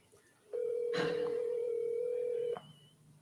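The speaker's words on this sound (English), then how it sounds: "Answer the phone." A single steady electronic telephone tone sounds for about two seconds, clear and fairly close over a quiet background.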